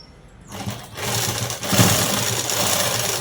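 Sewing machine stitching a blouse, a loud rapid mechanical whirr that starts after a brief pause and runs continuously with rhythmic needle chatter.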